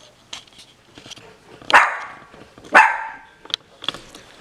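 A dog barks twice, loud and close, about a second apart, with a few fainter yips and household clatter around them.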